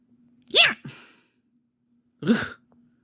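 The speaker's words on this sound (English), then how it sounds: "That's a cute sneeze." A pet fox sneezes twice, sharp and close, with a short snort after the first, separated by a quiet pause.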